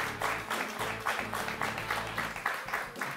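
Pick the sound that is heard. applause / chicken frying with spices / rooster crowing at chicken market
applause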